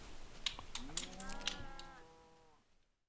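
A mooshroom cow in Minecraft lets out one drawn-out, wavering moo, loud and close, over a few short clicky game sounds, fading to silence at the end.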